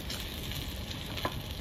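Eggplant slices frying in oil for a village-style home meal, giving a steady broadband sizzle at moderate level with one small pop near the end and no talking.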